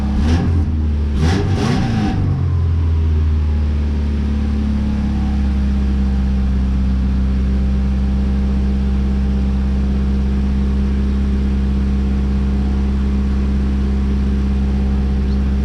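A 2000 Subaru Impreza RS engine, mid JDM six-speed swap with transmission missing, cranks and catches with a couple of quick revs, then settles into a loud, steady, high idle hum that continues unbroken.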